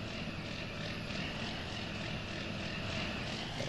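The 4440 tractor engine in Farming Simulator 19 drones steadily and evenly without a break. It sounds close and moderately loud, with a whiny, propeller-like hum. No voices are heard.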